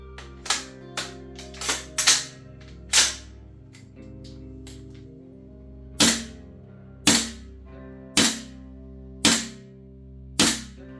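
A GHK V3 AR airsoft rifle firing a series of sharp, snappy single shots, close and loud, spaced unevenly about one second apart over a steady background hum.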